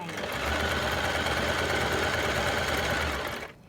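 A ZEN ZN1101 sewing machine stitching in reverse hums with a fast, steady mechanical whir at close range, running continuously before slowing and stopping near the end.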